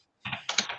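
Typing on a computer keyboard during an online standards-group meeting, a short quiet burst of clustered key clicks starting after a brief silence, close to the microphone with no talk.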